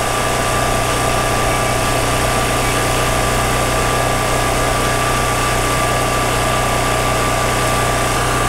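A generator engine running steadily while on test, a loud, constant droning hum with a buzzing whine layered over it and no change in pace, no speech.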